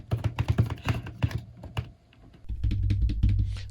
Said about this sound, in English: So let me type, "Hi, how are you today?" so you can hear what they sound like